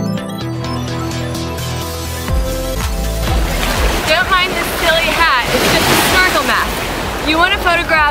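Ocean surf rolls in at a beach park on Maui, a broad continuous wash of crashing waves with wind buffeting the microphone, loud and close, after a stretch of background music at the start.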